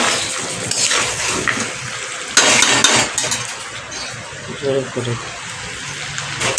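Water pours into a pot of carrot, potato and papaya stew with a brief gushing splash midway, set among kitchen clatter while someone talks throughout.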